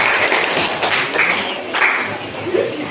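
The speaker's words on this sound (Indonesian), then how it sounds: "beri tepuk tangan yang gemuruh buat semua kelompok 1, 2, 3 dan 4" A short burst of applause from a grade 8 class in Indonesia, scattered claps blending into a steady patter with some voices underneath.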